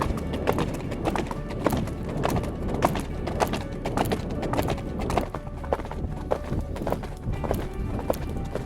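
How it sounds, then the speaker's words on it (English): Horse hooves clip-clopping in a steady, rapid galloping rhythm along a trail, close and continuous throughout, with occasional faint whinnying. "Horse wants to gallop."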